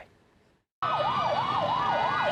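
Loud fire engine and ambulance sirens wail in a steady rising and falling pattern, close by, after a moment of quiet, racing to a hospital fire in Nasiriyah, Iraq.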